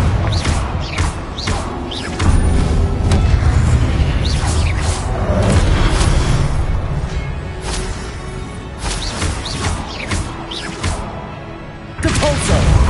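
Booming fiery blasts from the Confringo spell in Hogwarts Legacy on PlayStation 5, repeated heavy thuds and crashes layered with whooshes and combat clatter, loud and continuous.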